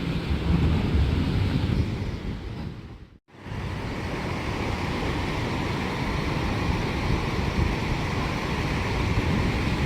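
Continuous rushing surf washes steadily, broad and roaring with some wind buffeting, dipping briefly to near silence before resuming.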